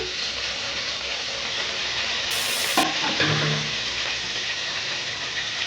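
Chopped capsicum fries with whole cumin seeds in a pan, a steady close sizzle with bursts of stirring scrapes partway through, no talking.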